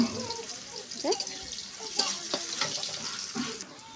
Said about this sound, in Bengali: পেঁয়াজটা লাল লাল করে ভেজে নেব।